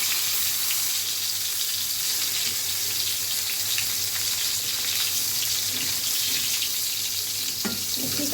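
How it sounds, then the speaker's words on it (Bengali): Eggplant frying in hot oil in a pan, a steady, continuous sizzle close by that holds at an even level throughout, with a brief clatter near the end. "ঠিক আছে, বেগুনটা আগে ভেজে নিই,"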